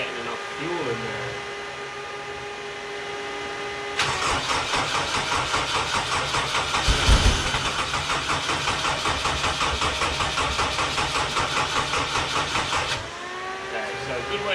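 A fuel-starved engine on a scrap-metal machine cranks and catches, running roughly for several seconds with a loud, uneven rhythmic chug before cutting out, and a voice talks at the start.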